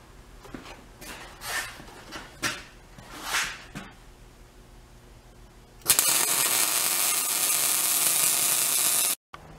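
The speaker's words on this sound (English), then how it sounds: "grind away some of that material so you got room for your weld" A lawn mower gear plate is ground flat before welding: a few rhythmic scraping and clicking strokes first, then a loud continuous harsh grinder roar for several seconds that cuts off abruptly, close with no talking.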